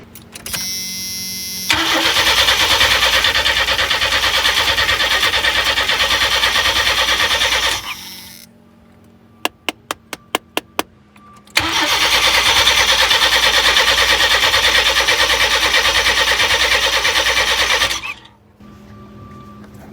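A van's starter cranks the engine for two long, loud, steady stretches without it catching, separated by a quiet pause with a few sharp clicks.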